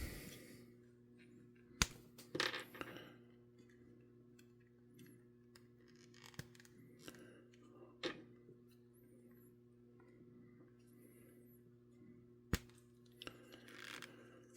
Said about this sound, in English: So, you could cuff this sumbitch up.